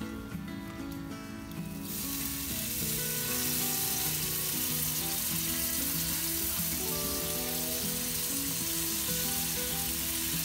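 Smoked baby back ribs basted with a Cherry Coke marinade sizzle loudly and steadily on the smoker, a constant close hiss that swells after a quieter opening moment.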